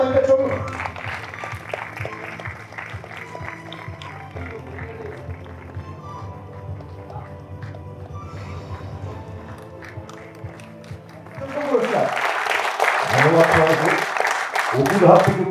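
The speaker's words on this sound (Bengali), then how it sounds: "একটা জোরে হাত তালি।" An awards-ceremony audience bursts into loud, dense applause near the end, after a long stretch of a host talking over background music.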